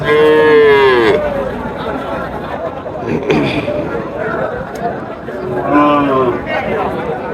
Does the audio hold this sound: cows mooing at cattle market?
yes